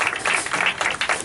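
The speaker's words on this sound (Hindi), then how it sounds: "आइए हम जोरदार तालियां बजाकर खुदा के साथ को वेलकम करेंगे।" An audience at a Bible school graduation ceremony gives a short burst of applause to welcome a pastor, a brief spread of many hands clapping at moderate loudness.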